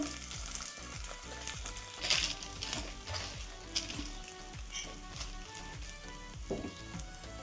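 Sabudana paratha roasts on a hot pan with ghee, a steady close sizzle and crackle running throughout with a few soft scraping touches and no voices.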